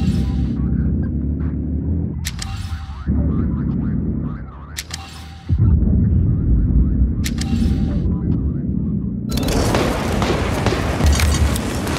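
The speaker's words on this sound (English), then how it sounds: "Enemy airstrike fast approaching." Enemy airstrike explosions in the war shooter game WW3, heavy booms and deep rumbles hitting in waves, the loudest blasts landing close and sustained over low background drone.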